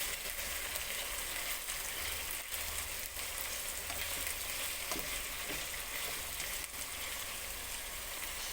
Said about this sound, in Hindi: अब चिकन का कलर जो है वो चेंज हो चुका है। हम इसे अच्छे से भून लेंगे।